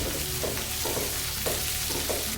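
Onions sautéing for cowpea kulambu, a continuous close sizzle with four regular stirring scrapes spaced about half a second apart.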